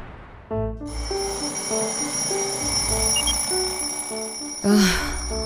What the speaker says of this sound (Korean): 알람 소리는 늘 고문이지만